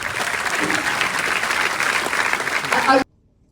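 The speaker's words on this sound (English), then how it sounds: "I think he really does deserve a round of applause." An audience at a movie premiere applauds loudly and continuously, with some voices mixed into the clapping, before the sound cuts off abruptly into silence.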